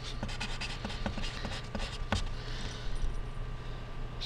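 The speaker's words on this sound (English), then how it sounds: "write your name on the back nice and big" Pencil or marker writing a name on the back of a sheet of paper, a steady scratchy scribble of short strokes with a faint background hum and no talk.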